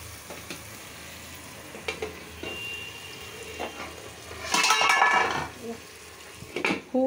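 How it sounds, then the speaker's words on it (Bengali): Fish fries in a home kitchen with a low continuous sizzle, broken by clanks of pots and utensils and a burst of louder hissing and clatter midway, while a voice speaks faintly now and then. "খুব সাউন্ড হইতেছে, রান্না করতেছি তো মনে কিছু করবেন না।"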